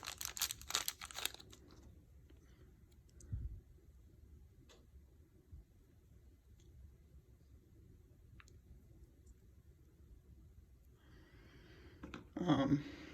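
A small plastic bag packing a Nintendo Game Boy Micro wireless adapter crinkles in short, fairly close bursts near the start and again near the end, with quiet stretches between.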